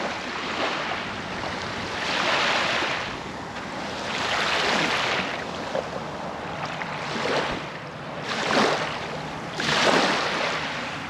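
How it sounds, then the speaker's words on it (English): Ocean waves wash onto a sandy, shell-strewn bay shore at night, surging and receding in slow regular swells about every two seconds, with wind buffeting the microphone. "You hear the waves."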